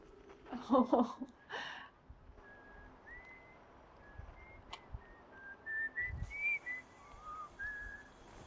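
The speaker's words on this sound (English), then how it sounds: "We need Esker's whistle." In the space exploration game Outer Wilds, Esker's signal is a thin wavering melodic whistle, faint and distant, drifting up and down in pitch over several seconds after a brief burst of other noise near the start.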